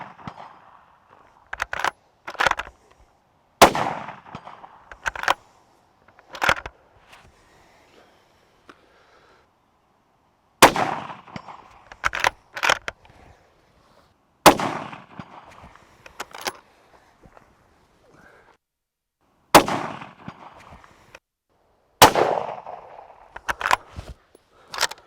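A Franchi Momentum Elite hunting rifle fires at a 10-inch steel target set at 200 yards, with sharp, loud single shots spaced several seconds apart and near silence between them.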